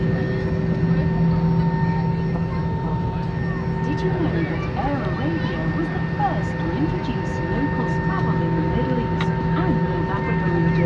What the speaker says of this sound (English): cabin crew, take your seats for takeoff.